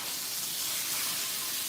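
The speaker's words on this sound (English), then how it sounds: "Can you hear the sizzling sound?" Shrimp with garlic and ginger sizzle in a hot stir-fry wok, a loud, even hiss that fills the short moment with no break or talk.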